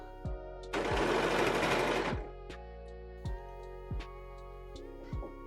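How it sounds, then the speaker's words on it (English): A sewing machine runs in one steady burst of stitching over an elastic strap laid on a seam of a beginner dress, with short clicks and mechanical taps before and after. "as you're going to sew over the strap that it's not at a strange angle"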